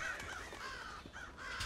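Caged birds in a stealth video game caw harshly again and again in quick, crow-like bursts over a low background, fairly loud and close, with no speech.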